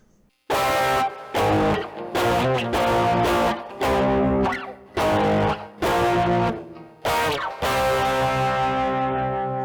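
A loud distorted electric guitar plays a riff of sustained, chunky chords with short gaps between them, ending on a longer ringing chord.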